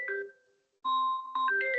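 A phone ringtone intrudes on an online class session, sounding as short melodic electronic tones that chime, pause briefly, then resume and layer over one another.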